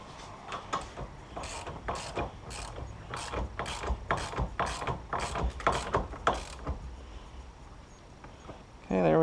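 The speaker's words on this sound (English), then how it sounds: "I'm going to do is just hand tighten it here, the 3/8 inch ratchet first" A 3/8 inch ratchet tightening the steering wheel nut on a Mazda RX7: a close, even series of about a dozen crisp clicks in steady rhythm, followed by a short thump at the end.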